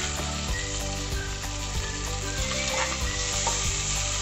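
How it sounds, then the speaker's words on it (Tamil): Onions sizzle and crackle steadily in a hot pan of oil while cooking for a Tamil egg kuruma, a loud continuous fry with no voices. "இதிலே டக்குன்னு வெங்காயத்தை போட்டுக்கோங்க."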